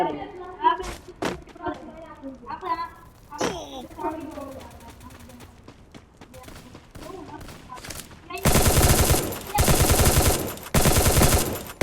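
Automatic gunfire from a video game crackles in loud, sustained bursts near the end. Before it, players talk excitedly and a few thumps are heard.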